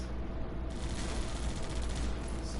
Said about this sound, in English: Oh, those are machine gunners.